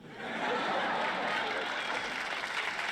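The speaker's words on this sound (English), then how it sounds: "Don't see why that deserved a round of applause" A studio audience applauds at a sitcom taping, a dense even wash of many hands clapping that swells up quickly and holds steady at full strength, with faint laughter mixed in.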